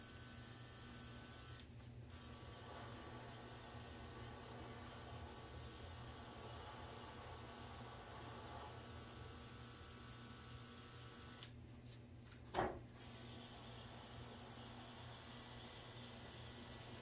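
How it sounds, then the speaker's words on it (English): Battery-powered compressor spray gun laying down a wet coat of clear coat, a steady low continuous hiss and hum throughout with two short pauses in the spray, no talking. "this is the compressor with the battery. This is the gun"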